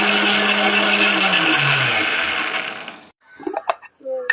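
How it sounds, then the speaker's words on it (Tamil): A kitchen mixer grinds aloe vera gel into a paste for a homemade hair pack, giving a loud, steady whirring roar for about three seconds that then cuts off, followed by a few faint clinks and knocks. "அரைச்சி வச்சு ஒரு பவுலில் போட்டுக்கலாம்."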